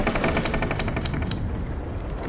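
Rapid bursts of a tank's machine gun in the mobile game Hills of Steel, a fast, even rattle of repeated shots that fades slightly toward the end, with no talking.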